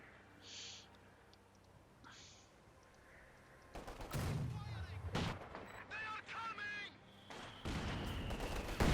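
Machine-gun fire and battle noise in Company of Heroes 2: quiet at first, then loud rattling bursts and explosions build up during the second half, with a commentator speaking over them.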